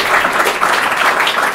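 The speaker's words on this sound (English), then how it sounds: "All right, another applause for Natalie." A tech talk audience gives a short burst of steady applause for the speaker, dense clapping throughout.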